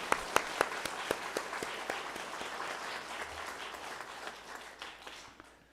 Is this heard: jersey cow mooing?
no